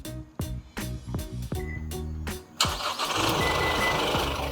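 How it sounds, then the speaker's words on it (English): A Mazda BT-50 3.0-litre pickup truck fires up by remote start: a string of short lock beeps, then the engine cranks and catches into a steady close idle, with no talk. "the Mazda BT-50 3-litre high automatic model, and that is remote start"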